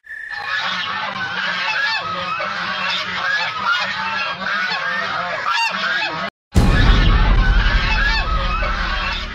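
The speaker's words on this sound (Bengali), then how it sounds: "আরে আরে, হাঁসগুলো এভাবে ডাকছে কেন?" Cartoon ducks quack in a loud, rapid, overlapping chorus of honking calls, broken by a brief gap before a denser, rumbling stretch of noise.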